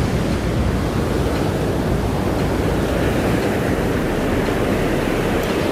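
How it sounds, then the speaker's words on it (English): Ocean waves break on a shore in a steady, dense wash of surf, loud and continuous with no distinct pauses between breakers and no voices. "Just looking at this beautiful ocean."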